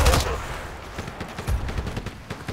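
FN Minimi Para machine gun in a video game, firing a fast stream of rounds after a loud opening burst, the rapid pops steady and close.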